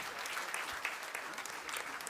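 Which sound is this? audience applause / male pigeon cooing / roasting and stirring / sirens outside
audience applause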